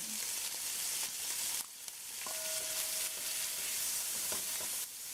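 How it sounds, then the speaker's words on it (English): Thyme, pepper, garlic and onion hit hot oil in a pot over high heat, giving a loud, steady sizzle that briefly dips and swells, with a few faint utensil clinks. "I'm going to add some oil. And we're going to add our thyme, pepper, and garlic, and onion."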